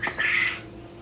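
Newly hatched birds in a CT180 incubator brooder let out a short, shrill squawking call, close and brief, then fade to quiet.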